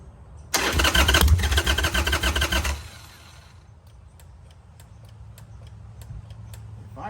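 Harley-Davidson 883 Sportster engine cranking and firing after sitting unused for eight years: a loud burst of starter churn and rough combustion for about two seconds, then a quiet idle with faint rhythmic ticking.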